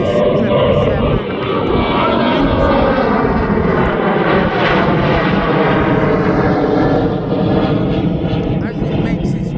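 A Boeing 777 airliner at East Midlands Airport passes close by as a loud, continuous engine roar with a slowly shifting whine, steady throughout.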